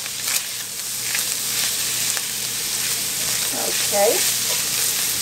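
Bacon cheeseburger filling sizzles steadily in a hot pan as it is tossed and broken up, a constant close frying hiss with brief stirring scrapes, and a short spoken word near the end.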